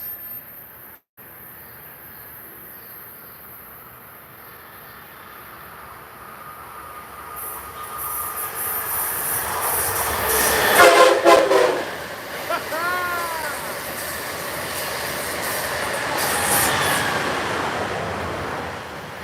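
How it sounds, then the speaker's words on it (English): An Amtrak train passes during a New Jersey Transit rail strike, its rumble building, then a loud multi-tone horn blast near the middle with a shorter echoing sound after, as the wheels and cars roll on steadily close by. "Eric, to answer your question, the only trains operating is Amtrak."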